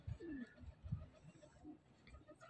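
A Lal Toofan pigeon coos softly and close by, a few low throaty burbling calls spread over a couple of seconds in a quiet setting.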